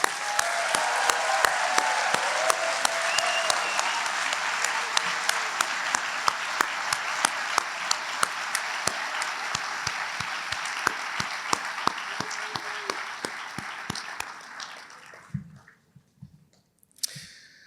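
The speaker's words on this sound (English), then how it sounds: "let's give all of our students one final round of applause" Sustained applause from an audience honoring medical students at a white coat ceremony, dense and even with a few sharper claps standing out, continuing for about fifteen seconds before dying away into a quiet room.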